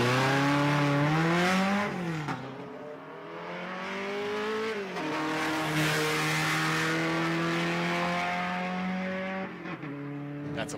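A 1967 Alfa Romeo with a 2.2-liter engine and stock frame racing up the Pikes Peak hill climb: a loud, close engine note that revs up, drops sharply at each gear change and climbs again, with the pitch rising and falling throughout.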